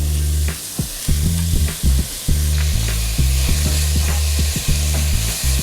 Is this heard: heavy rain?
no